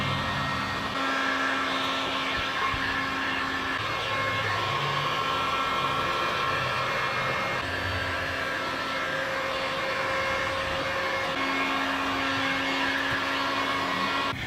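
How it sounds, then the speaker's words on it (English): A heat gun blows continuously while melting wax into a pair of jeans, a steady airy roar close by with a faint motor whine rising and dropping in tone, and no speech. "So I just finished up with the heat gun on this pair of jeans."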